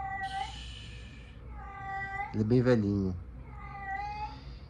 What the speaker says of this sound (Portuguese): Gatos, gente. É um gatinho demente.